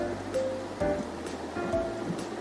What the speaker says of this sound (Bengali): এবার একটি ছাঁকনির সাহায্যে ভালো করে ছেঁকে নিব।